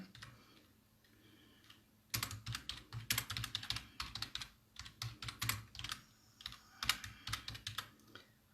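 Rapid clattering keystrokes on a computer keyboard, close and crisp, starting after a quiet moment and continuing in uneven bursts with brief pauses between words.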